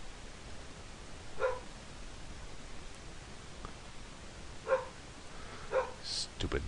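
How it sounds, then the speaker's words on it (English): A few sharp dog barks at a distance, spaced irregularly against a steady background hiss, with nothing else going on. "Stupid dog barking."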